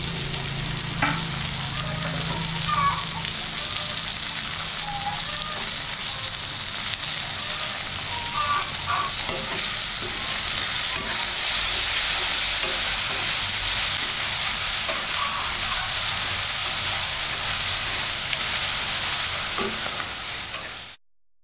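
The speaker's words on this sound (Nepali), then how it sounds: "तपाईले यसमाथि टमाटर खन्याउनुहोस् र मजाले चलाउनुहोस्" Steady loud sizzle of tomatoes being stirred into a frying gravy of onion, ginger and garlic paste, a continuous close hiss with occasional scraping of the spoon throughout.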